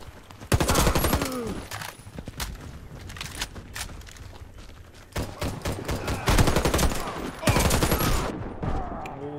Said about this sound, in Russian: Кидаю гранату! Осторожно, граната!